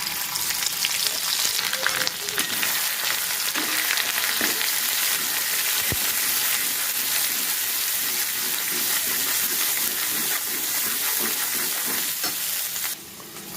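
Cinnamon powder and spice masala frying in hot oil for a soybean curry, a steady close sizzle running throughout with faint stirring clicks and scrapes of a spoon in the pan.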